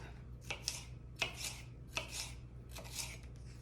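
A knife slicing green peppers on a board, four or five evenly spaced crisp cuts, each a short scraping swish, close and fairly quiet with no talking.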